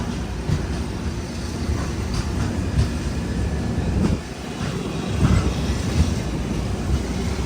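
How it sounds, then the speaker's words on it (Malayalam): Kochuveli–Rishikesh express pulling out of Kochuveli station, a steady loud rumble of wheels on rails with irregular clanks and thumps as the carriages roll along, no voices. "കൊച്ചുവേളി റെയിൽവേ സ്റ്റേഷനിൽ കറക്റ്റ് 9:10 തന്നെ നമ്മുടെ ട്രെയിൻ എടുത്തിരിക്കുകയാണ്"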